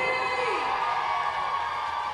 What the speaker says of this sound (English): Reef City taking the love from the crowd now.